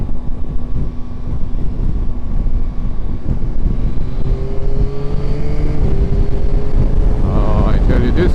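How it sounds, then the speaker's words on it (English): A Yamaha Tracer 9 GT+ motorcycle engine runs under way with heavy wind buffeting, its tone rising steadily through gear changes, while a rider talks over the noise. "this engine is a lovely engine, very torquey"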